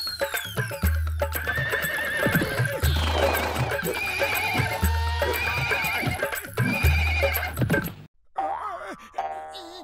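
Cartoon horse whinnying loudly several times over steady clip-clop hooves with bell-like chimes, ending in a brief pause and a short trailing neigh.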